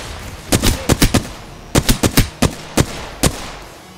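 Gunfire in the video game Apex Legends comes as loud, close bursts of rapid shots in two clusters, with a few single shots trailing after.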